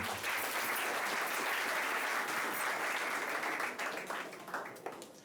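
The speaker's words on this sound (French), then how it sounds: "On applaudit très très fort pour madame le maire." Guests at a civil wedding ceremony in the town hall applaud in a sustained, dense wash of clapping that holds steady, then thins and fades toward the end.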